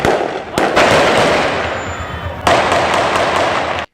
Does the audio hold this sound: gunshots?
yes